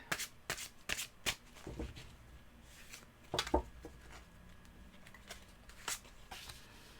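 A tarot card deck is shuffled close up, with a quick run of soft riffling flutters and snaps at irregular intervals, fairly quiet and with no talk.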